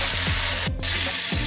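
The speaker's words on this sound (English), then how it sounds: "your bacon slices into the hot oil, one at a time, and cook on both sides for about a minute or two" Bacon slices frying in hot oil in a pan, giving a steady, close sizzle with crackling pops that runs through the whole moment, with no voices over it.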